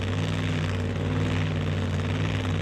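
A supercharged Boss Hemi pro mod drag car idles toward the starting line at a drag strip, a steady, loud, deep rumbling drone with no breaks and no voices.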